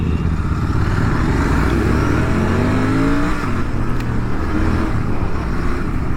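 A Royal Enfield Continental GT 650 with its stock exhaust accelerates hard, its twin-cylinder engine rising through the revs and shifting gears, loud and close throughout.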